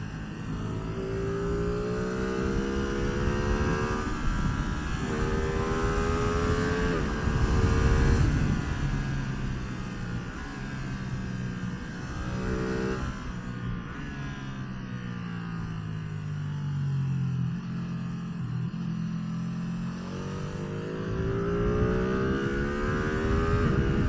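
A Ducati Streetfighter V2 motorcycle engine revs and accelerates through several gear changes on a mountain road, its pitch sweeping upward repeatedly, loud and close throughout with steady wind noise.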